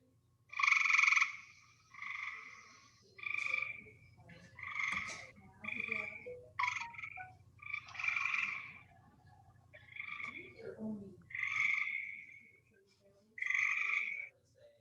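Gray tree frogs give repeated trilling calls, about ten bursts spaced a second or so apart, some overlapping as frogs answer one another, over a faint steady low background hum.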